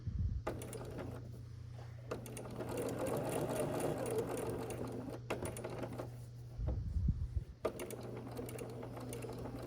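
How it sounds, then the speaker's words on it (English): A sewing machine straight-stitches around the edge of an appliquéd plate on a scrappy sampler quilt block, running in steady continuous bursts with brief pauses between, close and clear with no talking. "just go all the way around the outside of this block, stitching the plate down to the background"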